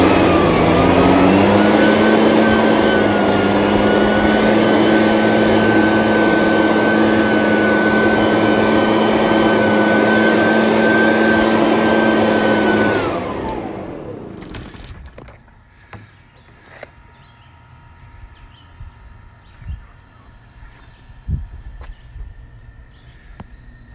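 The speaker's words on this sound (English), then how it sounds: "Got a push motor though" A small push motor on a little ride drones steadily and loud with a sustained whine for about thirteen seconds, then cuts out, leaving quiet outdoor ambience with scattered faint knocks and clicks.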